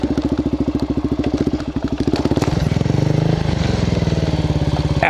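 A Suzuki DRZ400SM supermoto motorcycle runs in the woods, with a loud, steady engine drone. Its pulsing beat changes around midway as the engine note shifts, and thumps and rustling clatter sound along with it.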